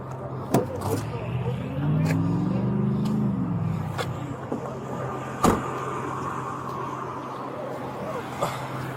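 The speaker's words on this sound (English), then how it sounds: "I'm going to put the window down." Car power window motor whirring as the window lowers inside a parked car, a rising and falling hum lasting a couple of seconds, with occasional clicks and thumps and cabin rumble around it.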